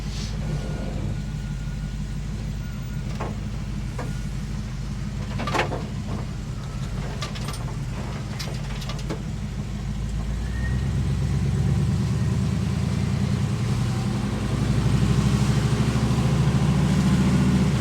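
The engine of a restored cab-over-engine truck runs with a steady low rumble, a few clicks and rattles over it early on, then the note grows louder and heavier as it revs up toward the end.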